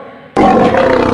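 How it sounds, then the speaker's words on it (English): A lion's roar bursts in suddenly after a moment of quieter background and stays loud, rough and close for the rest of the short clip. "Lion roars."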